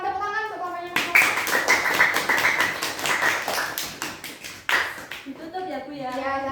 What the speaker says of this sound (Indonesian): Tepuk tangan untuk kelompoknya Mas Novan